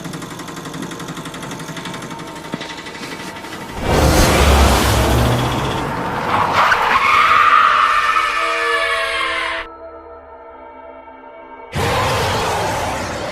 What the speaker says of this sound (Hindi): रॉड गाड़ी को हवा में उड़ाने लगता है